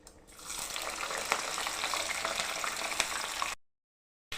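Green chillies sizzle in hot oil in a pan for pulihora, giving a steady, close, bright frying crackle. The sound cuts abruptly to silence near the end.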